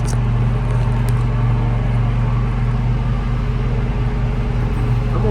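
A dirt truck backing up on a construction site, its steady low engine drone and rumble running loud and continuous throughout, close by, with no voices.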